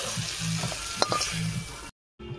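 Lightly fried onion, tomato and green chilli being poured and scraped out of a hot pan, a steady soft sizzle with a few sharp clinks, then a brief silence before the sizzle returns.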